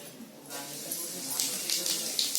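Cumin seeds hit hot oil in a kadhai on a gas stove and break into a steady, close sizzling hiss that swells after a brief quiet start and holds with small crackling pops.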